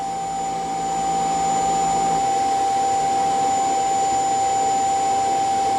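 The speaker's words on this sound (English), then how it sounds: "That's the vacuum kicking on, sucking everything out of the robot." Eufy C10 robot vacuum dock emptying the robot with a loud, steady suction roar and a constant high whine, while the brush roller spins at higher speed; the low rumble drops away about two seconds in.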